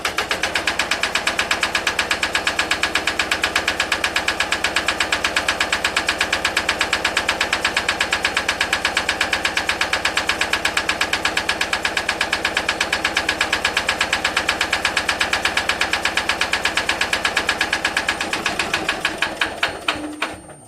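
A diesel engine runs with a fast, even chugging rhythm, loud and close, then slows and sputters to a stop near the end.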